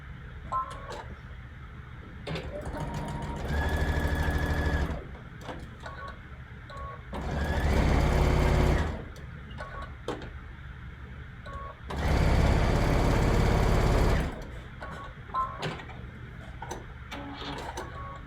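Sewing machine stitching a Friendship Star quilt block, running in three separate bursts of steady whirring several seconds long, broken by quiet pauses with small ticks and clicks, close and fairly soft.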